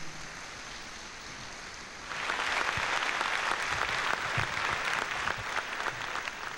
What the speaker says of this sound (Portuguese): Igreja, vamos dar uma salva de palmas de bem-vindo aos nossos visitantes